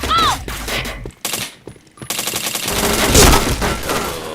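Rapid gunfire bursts from the PointBlank shooter game, loud and dense, broken by a short pause before the shooting resumes in sustained volleys.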